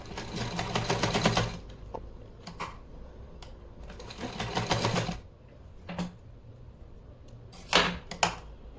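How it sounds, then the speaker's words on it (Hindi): A sewing machine stitches along a folded edge of a small Laddu Gopal deity dress in three close, rapid runs of steady mechanical stitching, with brief pauses and light clicks between them. "इस तरह से फोल्ड करके हम पहले सिलाई लगा लेते हैं जहाँ पे हमने फोल्ड किया है।"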